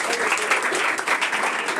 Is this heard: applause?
yes